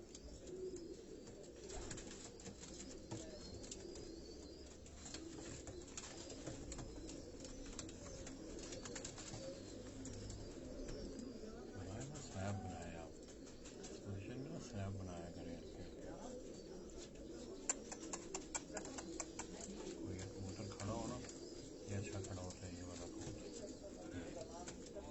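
Pigeons cooing softly from a rooftop in Karachi, among scattered birdsong, while a person talks steadily over them throughout.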